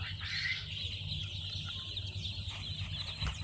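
Indian Runner ducklings peep and chatter continuously in a pen, a steady high-pitched chorus heard close with no talk.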